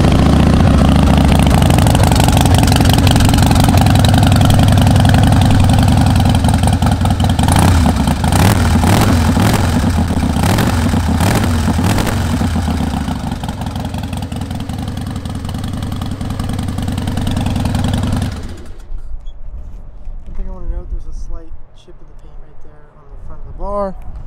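A 2002 Harley-Davidson Fat Boy with 19,000 miles idles loudly and close with a lumpy, rumbling beat and brief blips of throttle, a voice talking over it, before the engine is shut off and the talking continues alone.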